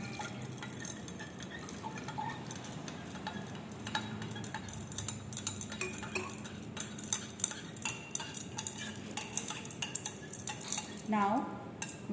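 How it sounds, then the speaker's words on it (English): A glass rod stirs a solution of potassium hydroxide, benzaldehyde and water in a laboratory beaker, making rapid light clinking and ticking against the glass over steady background noise, with quiet irregular taps throughout. "Stir with glass rod and then 30 ml of water."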